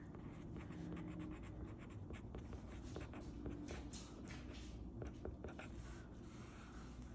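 A Paper Mate Flair felt-tip pen scratches and squeaks across paper in short, quick strokes, close up and faint, over a steady background hum.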